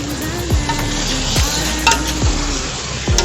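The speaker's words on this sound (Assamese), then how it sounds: "এতিয়া মাংসটো ঢালি দিওঁ ধুনীয়া কৰি এতিয়া ধুনীয়াকৈ লাৰি দিওঁ" Pork meat stirred and fried in hot oil sizzles steadily, with a utensil scraping the pan in a regular rhythm roughly every second, close and loud.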